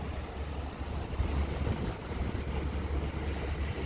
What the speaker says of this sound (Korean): 지금 이렇게 파도가 너무 많이 심하고